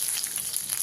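Tempering spices, garlic cloves, dry red chilies and curry leaves fry in hot oil for cucumber dal. The dense, bright sizzle is loud and close and lasts only a moment.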